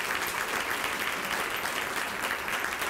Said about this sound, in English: Let's give those silver sponsors a round of applause.